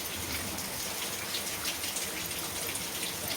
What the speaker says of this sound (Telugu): జల్లు వస్తుందండి బాగా ఎందుకంటే వర్షం ఫ్రెండ్స్